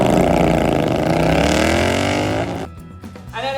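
A bobber motorcycle accelerates hard, its engine note climbing steadily through the revs, loud and close. It then drops off abruptly into quieter rumbling, and a brief sharp burst follows near the end.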